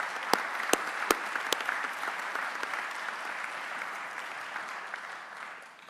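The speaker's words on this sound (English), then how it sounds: "give a round of applause to those 49 and to the 3" Audience applause at a corporate speaker event for the sponsors, opening with a few loud, distinct claps before settling into steady crowd clapping that tapers off at the end.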